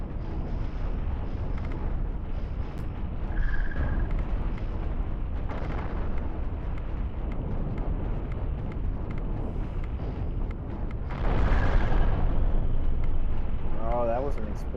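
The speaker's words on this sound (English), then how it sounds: "Oh, that was an explosion in the wall." Explosion bursting through a ship's wall in the space combat game Cosmoteer during a PvP tournament battle, a loud rumbling blast rising around the midpoint amid continuous booming weapon fire and a rough, noisy din.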